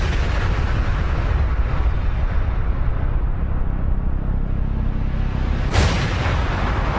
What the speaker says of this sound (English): These bombs may have been hitting their targets, but they weren't doing much to win over the hearts and minds of the South Vietnamese people.